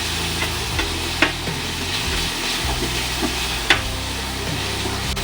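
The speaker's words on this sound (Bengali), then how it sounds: "পেঁয়াজ সুন্দর করে ভেজে নেবেন।" Onions fry in a pan while a utensil stirs them, giving a continuous sizzle broken by a few sharp scraping knocks against the pan.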